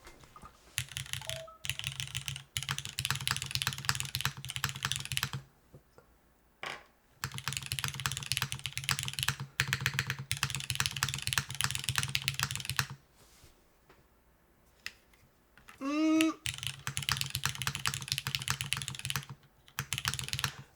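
Typing on a Neo80 CU top-mount mechanical keyboard: dense, rapid keystroke clatter in long bursts, broken by short pauses and one brief squeaky sliding noise, close and clear with no voices.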